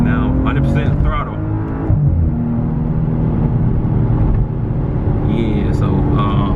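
Maserati Ghibli in sport mode at full throttle, a steady engine roar building as it accelerates on the road, with someone talking over it throughout.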